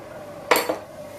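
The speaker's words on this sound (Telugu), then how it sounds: "ఇదిగోండి బెల్లం కరిగించడానికి గిన్నెలో వేస్తున్నాను." Lumps of jaggery dropped into a metal bowl for melting give two quick, close metallic clinks about a fifth of a second apart, with no talking.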